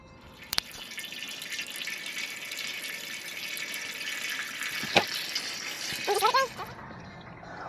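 Steady trickle of coolant draining from the radiator of a 2004 Chevy Venture, a continuous watery splash with a few clinks and small metallic taps near the end.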